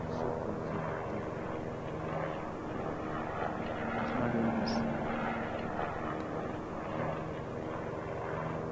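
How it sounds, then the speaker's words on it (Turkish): A helicopter rotor spins in a Call of Duty battle royale match, a steady droning engine and blade whir running throughout at moderate level, with a player talking over it. "Yalnız helikopter deli gibi dönüyor."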